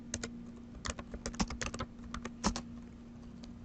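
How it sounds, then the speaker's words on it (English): Irregular bursts of clicking keystrokes on a computer keyboard while text is typed into a PowerPoint slide, close and fairly quiet with a steady background hum and no talking. "Again, typing the text that's in the middle of page 18."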